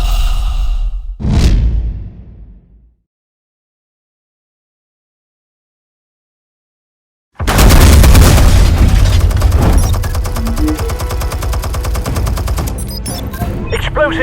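Explosives detonate in the Batman: The Telltale Series video game: a short booming blast fades into silence, then a sudden, loud sustained roar of explosions and gunfire-like crackle continues to the end.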